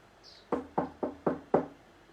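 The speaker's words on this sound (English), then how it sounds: "So Kisa goes to the next door and knocks on that door." Knocking on a house door: five firm, evenly spaced raps close by, with quiet surroundings and no voices.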